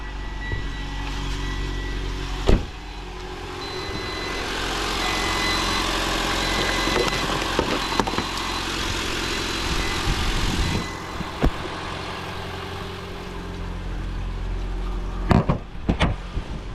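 A car engine, apparently a Jaguar S-Type, cranks with a sharp burst and then settles into a steady low idle with some clicks and rattles, with a few loud knocks near the end.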